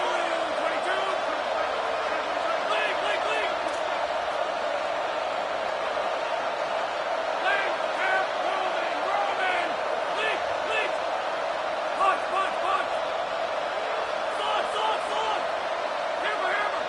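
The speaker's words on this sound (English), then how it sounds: "this crowd rises up to try to make it tough" Stadium crowd noise from the College Football 27 video game during a Notre Dame two-point try, a steady continuous roar with occasional swells, mixed under a commentator's ongoing play-by-play.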